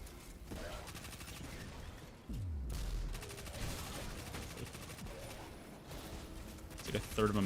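Primary weapon fire in Destiny 2, with rapid, fairly quiet repeated shots and occasional heavier impacts, heard under someone talking casually.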